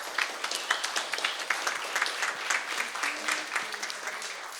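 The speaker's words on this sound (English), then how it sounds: "So both my parents and Danny's parents, a round of applause." Wedding reception guests at a golf club applauding the couple's parents, a lively burst of close, crisp clapping from a roomful of people, steady throughout with a few faint voices murmuring underneath.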